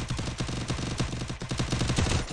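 Rapid bursts of video game gunfire, dense repeated shots rattling close and loud in a fast rhythm for a couple of seconds.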